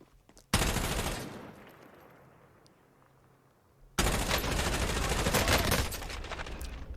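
Bursts of automatic gunfire from Warzone solo play: a loud, dense volley that fades out, a pause, then a second sustained burst of rapid shots that runs to the end, with no talking.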